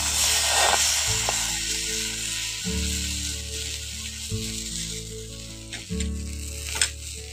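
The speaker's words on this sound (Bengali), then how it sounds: "এবার এর মধ্যে আমি 1 চামচের মতো এখন ব্যাটারটা দিয়ে দিচ্ছি।" Rice batter for chitai pitha sizzles and hisses in a hot greased pan, a steady frying crackle that swells briefly as more batter lands, under soft background music.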